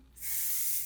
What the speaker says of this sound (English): Hairspray.